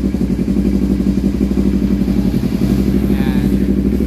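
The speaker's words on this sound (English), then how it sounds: "engine start" A Kawasaki Versys 650 motorcycle engine runs at a steady idle, a loud, even low rumble that holds for the whole stretch, with a faint brief chirp near the end.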